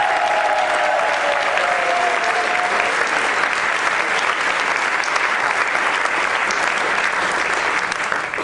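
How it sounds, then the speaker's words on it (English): Sustained, loud applause from a theater audience at a camp benefit show, dense steady clapping filling the whole stretch with a brief tonal whistle-like sound early on. "a huge round of applause"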